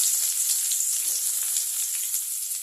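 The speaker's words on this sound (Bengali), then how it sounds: "বেগুনটাকে আমি একটু আলাদা করে ভাজা করছি" Chopped eggplant pieces frying in hot oil, a steady close crackling sizzle that holds evenly throughout, with no talking.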